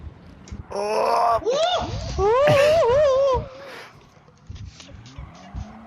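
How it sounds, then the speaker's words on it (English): Race car tires squealing and skidding under hard braking in Gran Turismo 7, several loud wavering screeches overlapping with engine noise, then fading into quieter track sounds. "I got way too deep on the brakes there."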